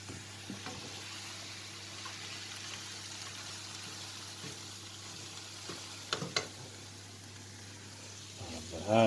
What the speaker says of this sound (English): I've got lots of veg all going into the wok and stirring it around